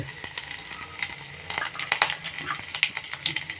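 Cumin seeds and a pinch of asafoetida sizzle and crackle in hot oil for mung dal, a close, continuous frying hiss with scattered sharp pops and spatters throughout.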